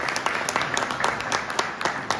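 An audience applauds at a seminar on folk music in Svidník, Slovakia, a dense patter of many hands clapping at an even level throughout, with a few sharper individual claps standing out.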